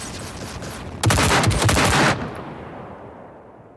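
Soldiers in an anime war scene fire on command in a loud, rapid volley of automatic gunfire lasting about a second, which fades into a lingering reverberant tail.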